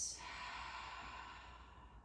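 A long, slow exhale during yoga breathing, heard as a soft, close breathy rush that begins with a brief sharp onset and fades gently over about two seconds.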